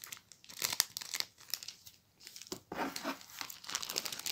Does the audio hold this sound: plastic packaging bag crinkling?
yes